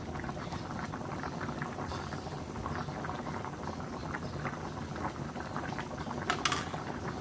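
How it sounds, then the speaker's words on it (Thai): Thai jungle curry with pangasius fish simmers in a pot, a steady, dense bubbling that continues evenly throughout, close by and with no voices. "ต้องใช้เวลาเคี่ยวไปต่ออีกสักพักก่อนเนาะ"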